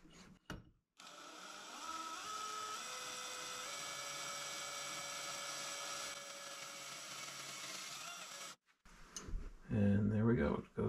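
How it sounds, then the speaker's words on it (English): A drill with an 11/64 bit bores into a rusty Bridgeport mill vise during restoration, a steady high whine holding for about seven seconds with shifting pitch, followed by a short burst of talk. "So let's drill it out. All right, so I've got an 11/64 drill bit,"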